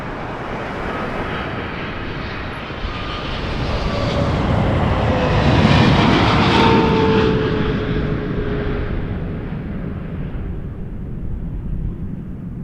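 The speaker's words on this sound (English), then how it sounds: "Landing a runway 24 left here at Toronto Pearson" A jet airliner landing on runway 24 Left at Toronto Pearson Airport, a broad engine roar that swells to its loudest near the middle and then eases off slowly while staying steady and close, with no talk.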